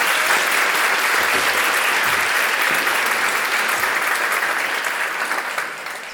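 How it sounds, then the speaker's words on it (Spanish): A live studio audience gives a sustained round of applause to arriving guests, dense steady clapping filling the room for about six seconds before tapering slightly at the end. "un aplauso para ellos, por favor."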